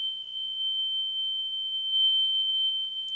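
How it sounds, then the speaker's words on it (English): A fire alarm sounds indoors as a single steady, piercing high-pitched tone that holds unbroken and fairly loud, with nothing else audible around it. "That's a fire alarm."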